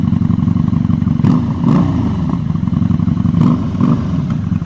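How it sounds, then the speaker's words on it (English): V4 motorcycle engine idling with a loud, rough mid-pitched rumble and blipped revs in quick bursts, heard close by at a dealership with no talking. "Hey, give us a rev."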